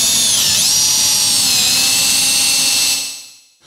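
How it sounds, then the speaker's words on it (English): A power drill polishing a foggy headlight lens whines at high speed, close and steady, its pitch dipping slightly as it works, then spinning down and stopping. "take the drill back to it, polish it once more"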